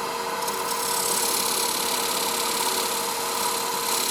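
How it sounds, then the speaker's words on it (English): Shop-made carbide square scraper scraping wood on a clock project, a loud, continuous rasping hiss held steadily from start to finish with no talk. "Just using a shop-made carbide square scraper there."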